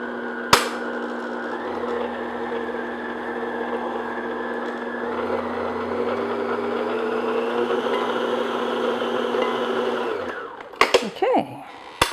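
An electric mixer beats Tweedie squares batter with flour, a steady loud whir that runs unbroken for about ten seconds before cutting off into a few clattering knocks.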